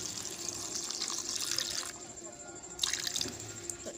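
Water poured from a container onto cut pieces of dried fish (shutki) in a cooking pot: a soft, close splashing trickle in two short bursts with a pause between them.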